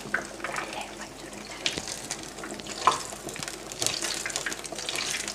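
Neyyappam batter sizzles in hot oil in a deep pan, a soft continuous bubbling hiss with small pops and splashes as oil is ladled over it.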